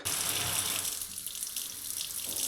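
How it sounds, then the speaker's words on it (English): A kitchen tap runs hot water at mains pressure in a steady, hissing stream that stays loud and close for the whole stretch, with no talking. "Kitchen tap."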